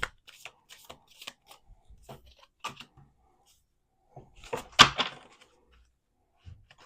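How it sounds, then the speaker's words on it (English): Tarot cards are shuffled by hand in quick, soft riffling bursts with a louder flurry midway and quiet pauses between, close and with no talking. "One more shuffle."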